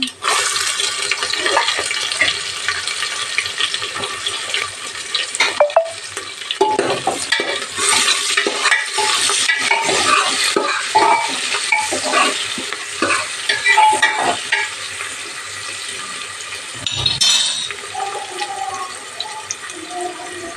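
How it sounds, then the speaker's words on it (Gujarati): Ginger garlic paste frying and being stirred in a pan for soya biryani, a steady close sizzle with scraping stirs running throughout, no talking. "આદુ લસણનો પેસ્ટ નાખી દઈએ"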